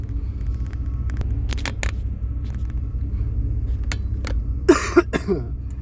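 A 35-year-old OBS Chevy truck idles with a steady low engine rumble at a gas stop, joined near the end by a few sharp clicks and a brief cough-like burst.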